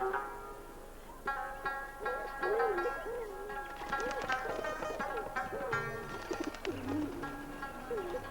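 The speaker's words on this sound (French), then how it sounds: "Ce sont Des pigeons blancs." White pigeons coo in soft, repeated warbling calls, close by, in Afghanistan, over a background of other birds chirping and a faint tonal hum.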